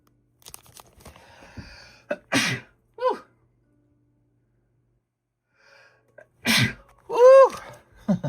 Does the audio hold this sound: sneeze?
yes